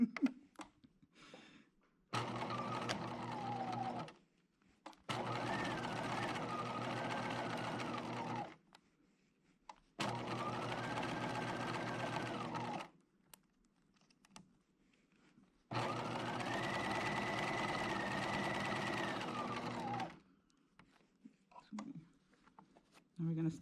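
A sewing machine stitches a Mariner top with bows in three long steady runs, each a few seconds, with pauses between for pivoting at the needle; close and fairly loud, with quiet handling sounds in the gaps.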